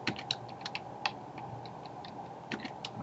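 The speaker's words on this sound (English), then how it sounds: "I'm just going to type a little something" Quiet, irregular clicking of a computer keyboard as someone types a short line of text, the keystrokes coming in small uneven bursts.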